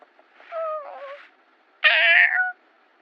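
A cat gives two loud, close meows, a longer drawn-out one followed by a sharper, brighter one after a short pause, with no talking.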